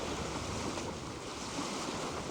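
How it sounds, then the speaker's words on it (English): Steady rushing and sloshing of water along a sailboat's hull under sail in Alaska, continuous broadband wash with a light wind hiss, no engine hum. "there's no noise of the engine, just the slash of the boat going through the water"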